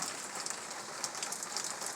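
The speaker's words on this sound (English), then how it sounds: "the rains have come forth" Steady rain falling and pattering on surfaces, an even, continuous hiss with scattered drop impacts, fairly close and with no voices.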